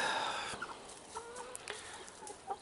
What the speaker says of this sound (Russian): Ну и куры чем-то заняты, он постоянно гребутся.